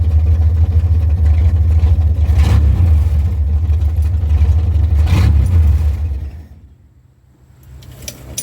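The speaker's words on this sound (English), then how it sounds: "Sounds pretty good for no exhaust, you know what I mean? They're just straight pipes." A Ford truck engine with straight pipes and no exhaust rumbles loudly with a deep, raw drone and a couple of throttle swells, then cuts out to near quiet before a faint click.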